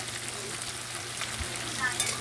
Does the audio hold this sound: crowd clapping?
no